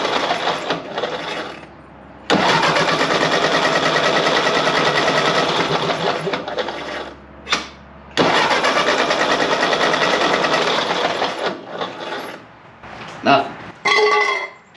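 An old tractor engine cranks without catching, in two long bursts of fast, rasping mechanical churning, loud and close, with short pauses and brief noises between them.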